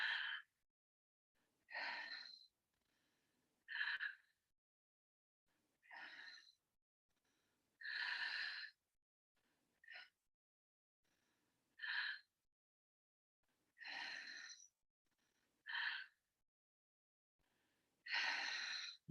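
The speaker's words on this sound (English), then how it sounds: "And this type of breathing, it's intense for me." Intense rhythmic breathing exercise, heard as forceful, hissing breaths in short bursts roughly every two seconds, close and alone with near silence between them.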